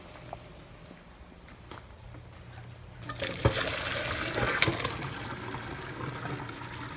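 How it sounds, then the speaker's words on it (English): Boiled lasagne noodles are tipped into a strainer: quiet at first, then a sudden loud gush of draining water pours steadily for several seconds. "The noodles, I think we're going to take them off. Put them in a strainer."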